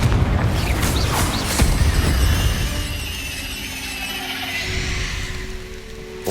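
Confringo fire spell blast in Hogwarts Legacy, cast in underground catacombs: a burst of booming, crackling impacts up front that fades into a lingering tonal, rumbling tail.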